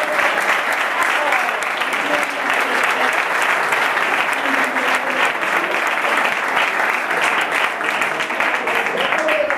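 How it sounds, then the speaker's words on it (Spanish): An audience at a flamenco studies event in Utrera gives a loud, sustained round of applause for a new vice president, thick clapping filling the hall with a murmur of voices beneath it. "os pido un gran aplauso para él"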